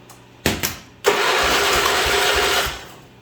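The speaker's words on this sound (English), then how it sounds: "Let's see if it cranks." A John Deere 210 lawn tractor engine turns over: two short starter bursts, then a sustained cranking whir for about two seconds that fades out without catching, close by.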